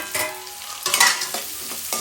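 Chopped onions sizzle in a hot pan with mustard seeds and cumin, a close crackling hiss interrupted by a few scraping stirs, no voices.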